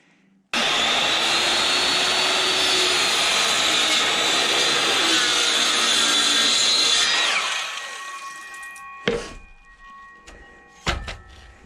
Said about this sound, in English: So I'll go ahead and cut these at an angle.